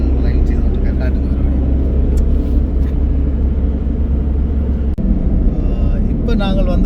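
A car driven along a road in Mullaitivu, giving a steady, loud engine and road rumble throughout with a brief dropout, under speech.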